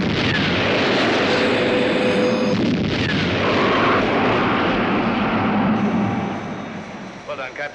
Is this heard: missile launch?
yes